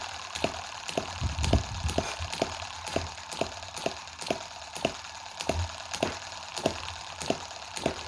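A small Chinese hit-and-miss model engine fires in a slow, regular rhythm, single sharp pops about every half second over a steady mechanical hum.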